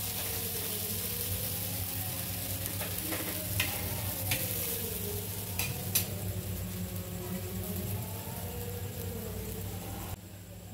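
A dosa of rice flour and gram flour fries on a pan after being flipped, with a steady close sizzle and several light spatula scrapes and taps.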